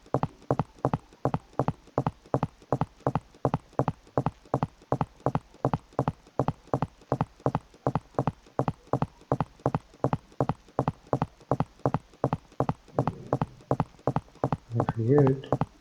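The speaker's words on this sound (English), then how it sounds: "now let's get closer to the player and listen the player footsteps as well" Player character footsteps in a Unity third-person military shooter game: a steady, rapid, evenly spaced run of clear hard steps continuing for the whole stretch, loud and close.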